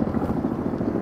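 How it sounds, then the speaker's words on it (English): Big military helicopters fly past overhead, a brief steady rotor rumble with a pulsing thump, fairly loud and without talk. "That's a helicopter going by."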